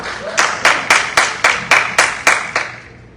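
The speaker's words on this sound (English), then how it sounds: "Big hand of applause to Mr. Conrad Williams." An audience at an afternoon workshop claps in a crisp, regular rhythm, about nine sharp beats in steady succession, close and loud, before the sound fades out.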